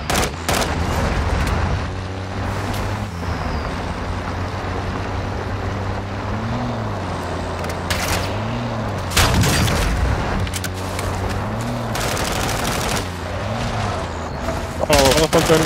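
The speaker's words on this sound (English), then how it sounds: "Sniper, oh, they're sniper, sniping." Sniper fire and other gunfire in Call of Duty DMZ, several sharp cracks and bursts scattered across the clip over a steady low engine drone, loud and fairly close.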